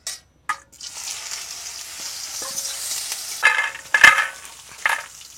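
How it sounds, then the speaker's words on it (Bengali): Washed soybean chunks are frying in hot oil in a kadai, giving a steady close sizzle, with a few sharp clinks and scrapes of stirring toward the end and no talking. "তেল দিয়ে যে সয়াবিন কটা একটু ভেজে নেব।"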